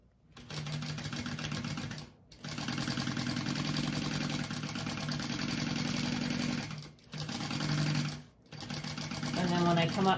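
A sewing machine stitches a bag seam in quick mechanical bursts, running steadily for several seconds, pausing briefly twice, then starting again, loud and close.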